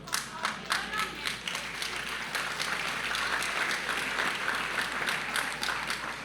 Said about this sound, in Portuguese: Essas palmas estão tímidas hoje.